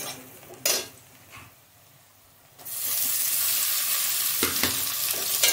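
Tomato drops into a pan of boiled vegetables for pasta, setting off a loud, steady sizzle that swells and holds after a quieter start, with utensil scrapes and clinks of stirring.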